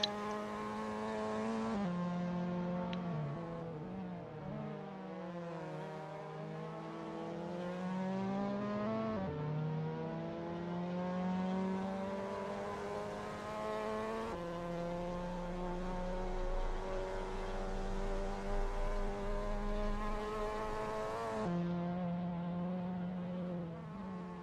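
A Mazda MX-5 Miata NA race car runs off track at Knockhill circuit, its engine a steady, buzzing drone that climbs and falls with shifting pitch. The tone swells and fades through a long continuous stretch with no talk.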